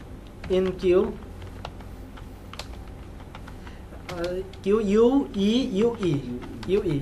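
Computer keyboard typing while entering script code, light irregular key clicks running under a man's close speech throughout.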